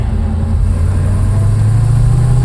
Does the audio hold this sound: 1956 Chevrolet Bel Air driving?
yes